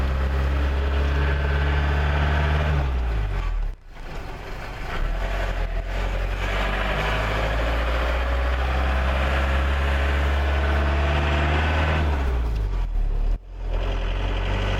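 A vehicle pulls away in a very short first gear, its engine droning loud and close as revs climb and fall, with a couple of brief dips where the throttle eases off.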